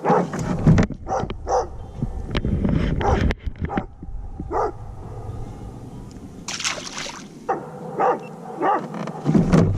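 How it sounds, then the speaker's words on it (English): A dog barking repeatedly nearby in short, irregular bursts, with some whimpering yips and a bit of water sloshing in between. "I'm sorry that dog is barking"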